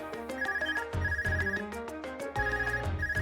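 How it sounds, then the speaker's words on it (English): An Arcus phone rings in the video game Trails of Cold Steel, a bright electronic ringtone repeating its melodic trill in clear, even bursts at close range, with no speech over it. "Is that your Arcus ringing?"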